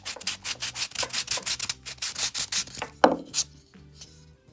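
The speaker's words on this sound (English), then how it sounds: "just put the sandpaper in there." Hand sanding inside a groove of a wooden place card holder with sandpaper gives quick, even back-and-forth rasping strokes, close and clear, ending in a knock and a short, quieter scrub.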